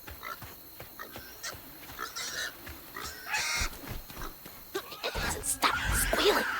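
A pig squeals loudly and repeatedly in the swampy Southern world of the South of Midnight video game, shrill cries layered over a busy, noisy game soundscape.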